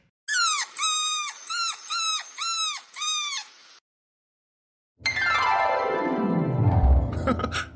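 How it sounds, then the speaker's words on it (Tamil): An injured puppy gives about six high, wavering whimpers in a quick series, followed after a short silence by a louder, drawn-out cry that slides downward in pitch. "டேவிட் அந்த நாய்க்குட்டி பாரு அது அடிபட்டிருக்கும் நினைக்கிறேன்"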